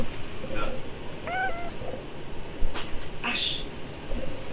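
A cat meows indoors, several short rising calls with a higher, louder cry near the end, while people talk quietly around it.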